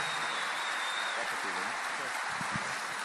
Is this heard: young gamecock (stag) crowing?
no